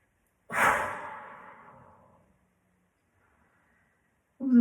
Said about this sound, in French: On le fait ensemble. Vous inspirez.